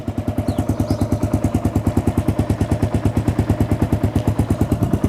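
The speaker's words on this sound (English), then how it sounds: "very good sounding bike." A carbureted 2017 Kawasaki KLR650 motorcycle engine running at a steady idle, a loud close thumping with even, rapid single-cylinder pulses throughout and no talking.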